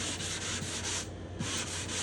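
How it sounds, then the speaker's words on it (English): Steady sanding strokes across a spruce acoustic guitar top, smoothed flush with its bindings and purflings before French polishing, with rhythmic rubbing passes and a brief pause partway through, close and continuous. "doing essentially a final sanding before French polishing"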